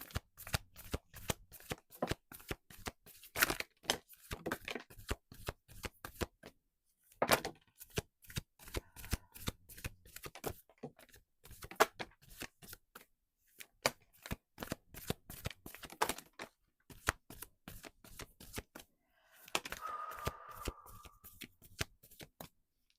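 A deck of oracle cards being shuffled in quick riffling bursts, with short pauses between rounds and a softer rustle near the end, close by and with no talk.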